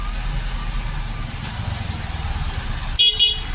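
A car horn gives a short double honk near the end, loud over the steady rumble of a car engine being driven through traffic in Kolkata, with no talking.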